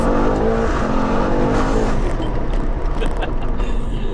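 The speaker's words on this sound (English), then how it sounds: "put it into Sport Plus or race mode, traction off, downshift, and you're off" A tuned 900+ bhp Mercedes-AMG GT63s, in race mode with traction off, accelerates hard after a downshift, a loud, continuous close engine roar filling the whole clip.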